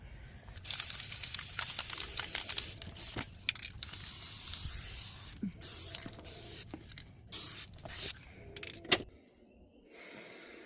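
Rust-Oleum spray paint hisses from an aerosol can in repeated bursts of varying length, close and steady, broken by brief pauses and some clicking handling noise, with no talking.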